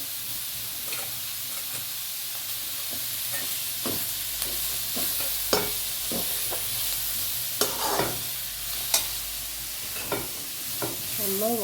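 Shallots and curry leaves fry in a pan for chicken curry, a constant sizzle punctuated by irregular clinks and scrapes of a spoon stirring close by.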